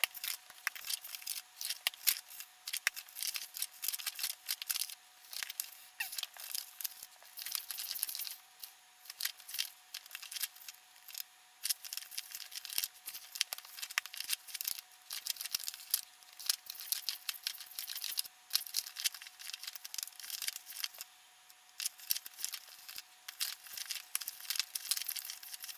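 Stickers peeled and pulled from a planner binder, a busy stream of crisp tearing, crinkling and paper rustling that continues without pause, close and fairly quiet, with no talking.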